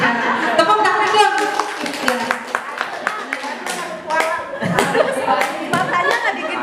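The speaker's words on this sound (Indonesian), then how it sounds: "Tepuk tangan dong." Group of students in a classroom clap hands in loose, uneven bursts, fairly close, mixed with voices talking and a little chuckling.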